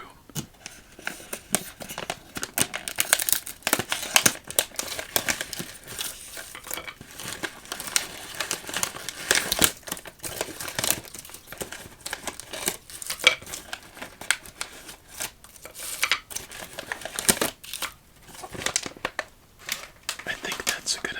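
Werther's pumpkin spice caramel chews are unwrapped from crinkly wax paper close up, a steady stream of soft crackling, rustling and tearing with no voice heard.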